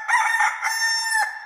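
Rooster crow sound effect on a television game show, one loud, clear, drawn-out cock-a-doodle-doo heard alone up close.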